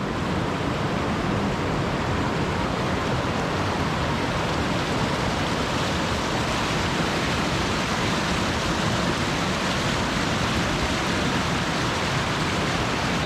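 Frothing white river water rushes loudly and steadily through a Scottish glen, a dense, unbroken roar that fills the whole scene with no pauses and no voices.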